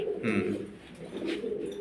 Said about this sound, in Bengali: এই কবুতর